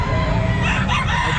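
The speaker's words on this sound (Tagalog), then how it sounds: "mga magagandang manok." A rooster crows once at Calumpit pet market, close and fairly loud, with a cluck and market bustle around it and faint talk in the background.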